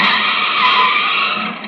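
A sharp, sustained tire screech from braking, loud and close, holding steady before tapering off.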